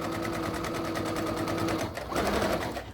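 A sewing machine back-stitches over the fold of a fabric armchair caddy, running steadily and close up, its motor whirring in an even buzz that shifts pitch near the end as the stitching changes direction.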